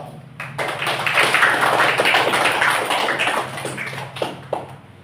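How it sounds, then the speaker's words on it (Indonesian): An audience in a classroom at a university teaching-exam session in Gorontalo applauds, a dense, fairly loud spell of clapping that swells, holds, then thins out with a few last claps. "berikan aplaus dulu"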